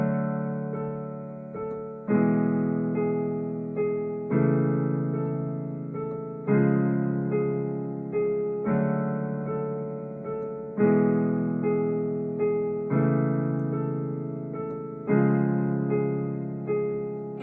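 Piano chords of a song, played as a simple repeating progression. Each sustained chord is struck on a steady slow pulse about every two seconds, clear and close, with no voice.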